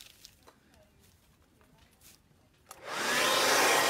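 A hair dryer blowing ink dry on a tee shirt switches on near the end, a loud steady close roar after a few quiet seconds of faint handling noise.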